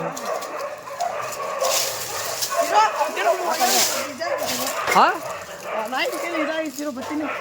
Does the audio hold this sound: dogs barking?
yes